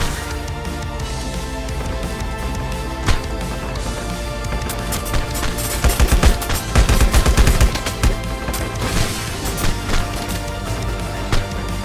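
Gunfire crackles in the LifeAfter shooter game: rapid bursts and scattered shots over a dense, continuous battle din, building into a louder cluster of heavy volleys midway before settling back to steady firing.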